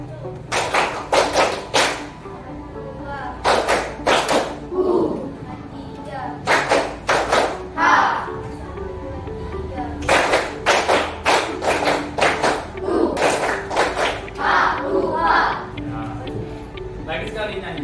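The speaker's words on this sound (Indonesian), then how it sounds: "Silakan untuk tepuk." A group of people in a teacher coaching session clapping in short rhythmic bursts, sharp patterned claps separated by pauses, with singing voices between the bursts.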